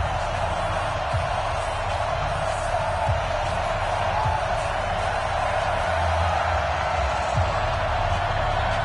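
Steady stadium crowd roar from an EA Sports football video game before a Tampa Bay Buccaneers versus Carolina Panthers matchup, a constant broadband wash with faint scattered whoops and no clear talk.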